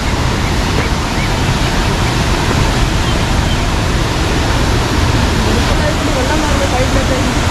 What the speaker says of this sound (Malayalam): വെള്ളം പോകുന്ന ആ ഒരു ഫോഴ്സ് നോക്കും